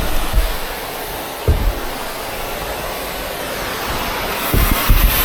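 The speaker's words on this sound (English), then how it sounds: "I got the torch running already, so this is going to be a bit noisy" A propane torch runs steadily while heating a metal piece of a bucket, making a loud, continuous roaring hiss with a few brief dull knocks near the start and end.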